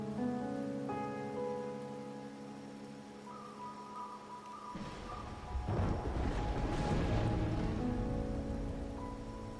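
Rain in a video game sets in after a sustained musical passage, a soft, continuous hiss of falling drops that rises and lingers, with a low rumble swelling partway through.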